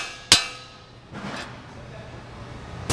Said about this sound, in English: we can actually just knock it with a hammer, and that'll release the actual ball joint